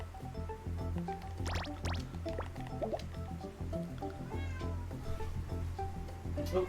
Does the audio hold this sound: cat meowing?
yes